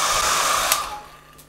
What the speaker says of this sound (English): you warm it up with a hairdryer